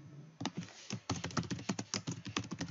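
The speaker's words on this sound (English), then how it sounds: "So I'm typing in what my main email is going to be." Computer keyboard being typed on nearby, rapid irregular clicks and taps in a steady stream after a brief pause while an email address is entered.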